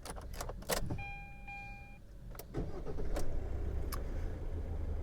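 A car's engine starts after a jangle of keys and a chime, then settles into a steady low idle rumble that carries through to the end.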